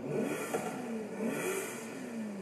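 A 2005 MG XPower SV-R engine in Forza Horizon 5 drones and revs with a whirring, rising pitch, steady and fairly loud throughout, with no talking.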